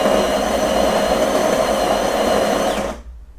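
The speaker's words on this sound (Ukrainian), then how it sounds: "Якщо ми зробимо зараз чашечку, ну скоріш за все, кавомашині буде важко" A De'Longhi coffee machine, fed the wrong coffee, grinds beans with a steady, loud whirring drone that cuts off abruptly near the end, leaving quiet.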